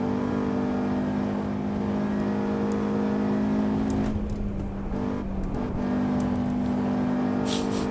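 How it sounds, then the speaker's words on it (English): A car engine in the racing simulator Assetto Corsa Evo at the Nürburgring, with a tone resembling a Toyota 4A-GE, drones steadily and close up, dipping briefly midway before holding its pitch again. "This car kind of sounds like a 4AGE,"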